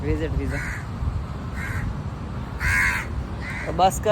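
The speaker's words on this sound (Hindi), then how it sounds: "कौवा मेरे पीछे पड़ गया गाइस" A crow caws several times in short, harsh bursts close by, mixed in with someone speaking over outdoor ambience.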